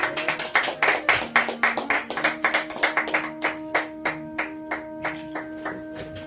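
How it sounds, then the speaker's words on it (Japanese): A small audience claps around a song, with distinct, individual hand claps that start brisk and gradually thin out and slow, alongside a faint steady tone. "拍手。"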